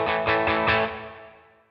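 Electric guitar played through the plate reverb setting of a NUX Trident multi-effects pedal, three or four strummed chords in quick succession, then a smooth shimmering tail fading out over about a second, alone and without talk.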